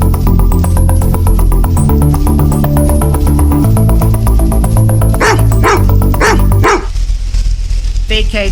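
A police dog barks several times in loud, sharp bursts toward the end, set against a dense, steady background with voices present.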